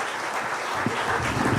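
Audience at a traditional Irish music concert in Milltown, Rathconrath applauding, a dense, fairly loud wash of clapping that fills the short moment.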